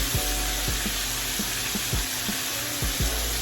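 Butter sizzles in a hot pan alongside steak, a steady loud frying hiss with a few sharp crackles and pops spaced through it, close up and with no talking.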